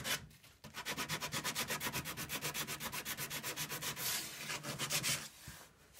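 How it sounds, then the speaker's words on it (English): Sandpaper rubbing back and forth over a wooden plug on a nightstand base front, a steady run of fast rhythmic strokes close up and fairly loud, alone without talk. "I can grab my sandpaper and just kind of finish it off a little bit"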